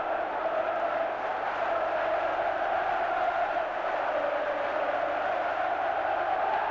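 A football stadium crowd at Elland Road roars in celebration of a goal against Stuttgart, a dense, sustained wash of cheering from a large distant mass of fans.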